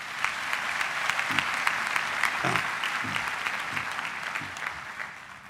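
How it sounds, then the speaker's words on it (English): Audience at a university graduation ceremony applauding warmly, an even wash of clapping heard from within the hall, steady for several seconds with a few sharper claps. "let's just give them a round of applause, please."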